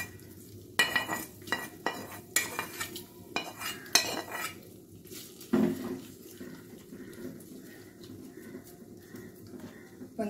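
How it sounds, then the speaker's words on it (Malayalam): Fried mustard seed tempering goes into pineapple pachadi, followed by sharp clinks of a spoon against a pot and scraping stirring strokes, close and intermittent. "ഞാൻ കടുക് വറുത്ത് വെച്ചിരിക്കുന്നതാണ്, അതും കൂടെ ഇതിലൊഴിക്കാം"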